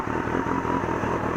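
A 1996 Honda CBR600F3 sport bike's engine idles nearby with a steady, busy mid-range hum and light mechanical clatter throughout the short stretch, with no voices.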